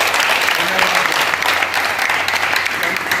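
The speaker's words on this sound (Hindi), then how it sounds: "इस प्रोग्राम के लिए एक बार तालियां बजा करके नमस्कार" An audience claps together at a political gathering with a minister, a dense, loud, sustained round of applause heard close, with no speech over it.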